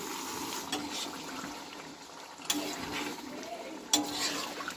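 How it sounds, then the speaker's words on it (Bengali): Broth poured into chicken skin, gizzard, liver and head cooking with potatoes in a pot, a steady liquid rush with a few sharp clinks, no talk. "এখন আমি ঝোল দিয়ে দেব রান্না হওয়ার জন্য সিদ্ধ হওয়ার জন্য ঝোল দিয়ে দেবো হাফ কেজি পরিমাণ"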